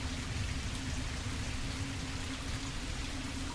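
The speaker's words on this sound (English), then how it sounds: "It's been raining for as long as I can remember." Steady rain falling in stormy weather, a dense continuous hiss of drops on surfaces, even and unbroken throughout with no voices.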